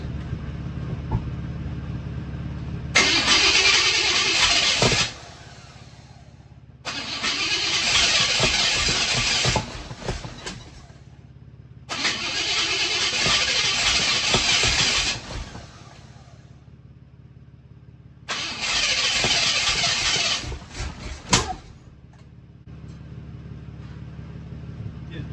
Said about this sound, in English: It's backfiring.